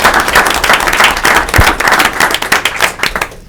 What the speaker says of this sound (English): So if we can give Anthony a round of applause.